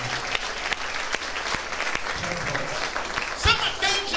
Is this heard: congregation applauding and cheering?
yes